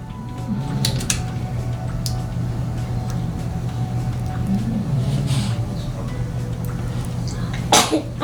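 A baby sneezes near the end of a steady room recording, a short sharp burst over a constant low hum with faint household noise throughout.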